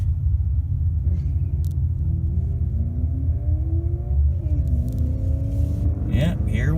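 A 2018 Cadillac ATS 2.0 turbo AWD idles with a steady, deep rumble while lining up at Gun Raceway drag strip, its pitch drifting slightly, and a brief voice is heard near the end.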